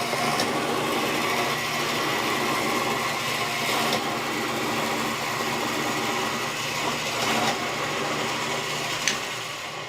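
A winch draws wire for making pins and fibulae, producing a continuous mechanical grinding hum with faint intermittent clicks, steady and fairly close, with no talk.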